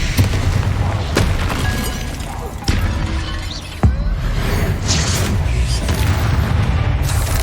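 Spell blasts in the video game Hogwarts Legacy, loud booming impacts and crashing bursts over a rumbling combat background, with several sharp hits standing out.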